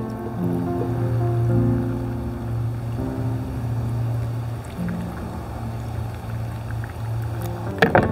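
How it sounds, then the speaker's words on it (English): Water pouring steadily into a pot, a soft continuous splashing and gurgling up close, with a low steady hum underneath and a clink at the end. "Now we pour a little bit of water on, about a couple of cups of water."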